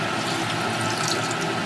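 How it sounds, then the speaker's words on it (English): About half a liter of distilled water poured into a hot gold-refining solution for gold-filled jewelry, just taken off the heat; a steady, close splashing and trickling of liquid runs throughout with no talk. "I'm going to add about half a liter of distilled water."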